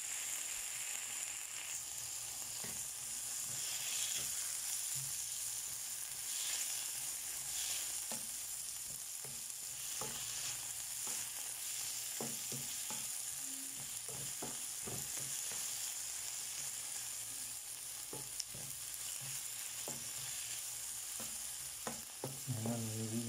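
A dish with tomatoes sizzles and fries in a pan, a steady loud hiss with occasional stirring clicks and scrapes running continuously without talk.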